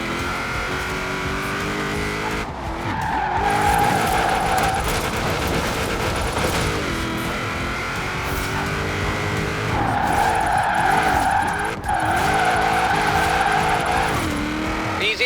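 Car drifting in Forza Horizon 4: a sustained engine roar with continuous tire squeal and skidding through long slides, loud and close, and occasional voice-over beneath the game noise.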